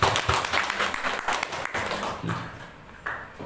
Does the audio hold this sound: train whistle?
no